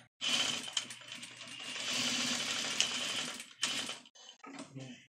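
A sewing machine stitches elastic for a bonnet, running in one steady, fast whirring stretch of about three seconds, then a few short stop-start bursts, fairly quiet and close.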